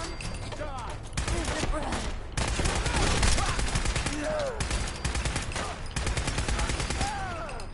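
Dense, continuous video-game gunfire in Fallout 4, with rapid automatic bursts and overlapping shots filling the whole stretch, loud and close, while voices come through underneath.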